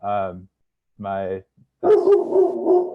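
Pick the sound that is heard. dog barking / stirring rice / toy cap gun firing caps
dog barking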